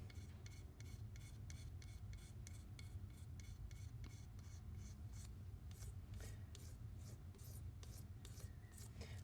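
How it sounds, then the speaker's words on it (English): A single edge razor blade scrapes rust off a Bowie knife in steady, rhythmic rasping strokes, close and continuous over a low background hum. "I'm just using this single edge razor blade as a scraper."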